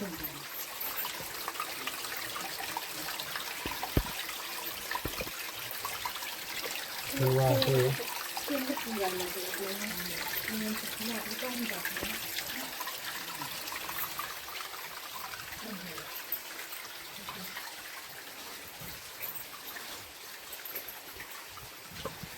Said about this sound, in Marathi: आणि पाण्याचा झरा बघा तुम्ही